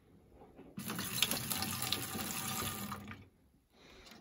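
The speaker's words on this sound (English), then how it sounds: "I'm going to pour just a pinch of water in there" Water runs from a tap into an empty Ariel liquid detergent bottle, making a close, steady splashing rush for about two seconds, then stopping, with a brief faint trickle afterward.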